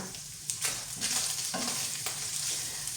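Steady sizzling of seasoned minced meat frying in a pan, with occasional scraping and stirring sounds, close and continuous throughout.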